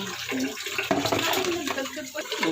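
Tap water runs and splashes while a child washes dishes at a sink, a busy, uneven gush close to the mic with faint voices mixed in.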